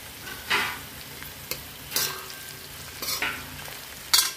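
Cabbage and capsicum stir-frying in a hot pan, with bursts of sizzling as the vegetables are tossed and stirred several times, fairly close and clear with no talking.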